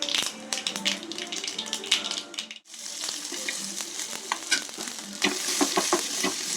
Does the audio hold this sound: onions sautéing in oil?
yes